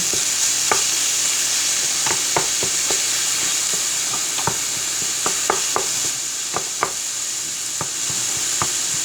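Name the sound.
breaking up frying meat with a wooden spoon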